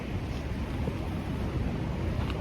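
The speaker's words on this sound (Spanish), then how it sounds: "Ya se escucha el mar." Sea surf from the Tayrona park coast, audible from a humid jungle trail as a steady, dense low rumble of waves that stays even throughout, with a faint hiss riding on top.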